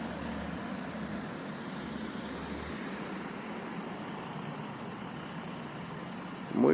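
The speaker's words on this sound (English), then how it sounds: "we're gonna watch the traffic down through there" Road traffic rolls past on Main Street in Loganville, a steady, moderately distant wash of tires and engines with a heavier vehicle rumbling low early on and a louder pass at the very end.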